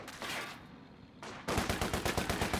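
Gunfire in Company of Heroes 2, a few scattered shots and then a sustained, rapid automatic burst, loud and close.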